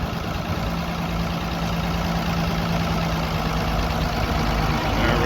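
Vintage International tractor engine running steadily at a show, a constant low rumble with a faint tonal hum, close and fairly loud throughout.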